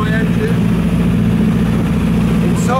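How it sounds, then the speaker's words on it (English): Mitsubishi engine on a sailboat running steadily with a low, throbbing hum, close and loud, with voices talking over it. "Can you hear the good sound of my engine?"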